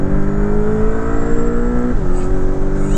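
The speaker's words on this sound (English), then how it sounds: "This is the base Boxster engine, but 300 horsepower is actually plenty." Base 300-horsepower engine of a 2024 Porsche 718 Boxster Style Edition accelerating, a steady strong drone climbing through the revs with a brief drop and upshift near the two-second mark.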